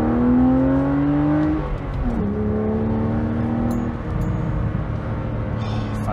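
BMW Z4 Coupe E86 with the 3.0si straight-six accelerating hard in first gear, a loud, close engine note climbing in pitch, dipping at a shift around two seconds, then pulling again steadily.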